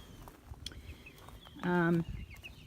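A single short cluck from a chicken at a farm chicken coop, close and clear, over a faint outdoor background.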